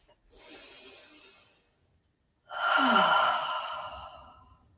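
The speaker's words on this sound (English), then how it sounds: "Perhaps take a deep breath." Two audible breaths during a yoga session moving into Ardha Uttanasana, the halfway forward fold: a long airy inhale, a brief pause, then a louder, fuller exhale with a slight throaty rasp, close and alone.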